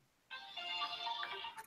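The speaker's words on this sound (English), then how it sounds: "That is my phone's notification sound." A phone notification chime resembling a Metroid game sound rings alone for over a second, a bright sustained electronic tone with shifting notes that starts abruptly after a brief quiet moment.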